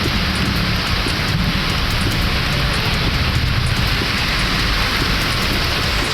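Heavy rain falling over the Tambaram suburbs of Chennai, a dense, steady hiss of downpour hitting surfaces, loud and unbroken with no voices.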